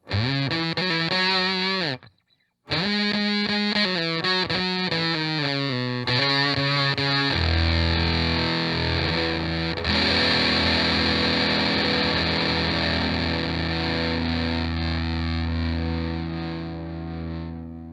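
Electric guitar played through a Lil Trees Guitars Synesthesia Distortion pedal: chunky, saturated chords, a brief cut, then a sustained, fuzzy ringing chord left to decay. Loud and close.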